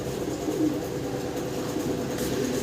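Fancy pigeons kept for sale in Bangladesh coo softly and low, a faint continuous murmur of cooing against quiet background noise, with no talking.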